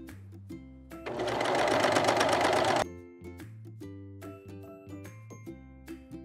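A sewing machine runs in one steady, loud burst of about two seconds, stitching over the small side loops of a high-waisted bikini bottom, then stops. Quiet clicks and soft music continue before and after.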